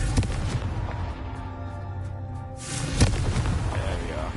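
A muffled booming blast from the Confringo spell in Hogwarts Legacy erupts after a quiet stretch, with a sharp crack at the burst and rumbling echo trailing off, a voice speaking near the start.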